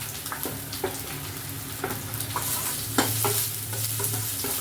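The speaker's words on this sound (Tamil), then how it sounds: "அடுத்ததாக கறிவேப்பிலை போட்டதும் கட் பண்ணி வச்சுருக்க ஆனியனை போட வேண்டியதுதான்" Chopped onion and curry leaves fry in a pan for lentil chutney, a close steady sizzle with repeated scraping strokes of a stirring spoon.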